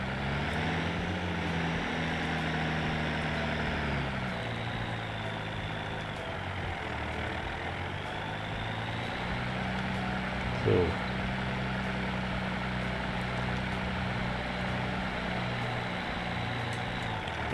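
A stuck farm tractor engine in the game Professional Farming: Cattle and Crops idles and runs steadily at a moderate distance with a low droning hum, its pitch shifting slightly a few times, and a brief knock partway through.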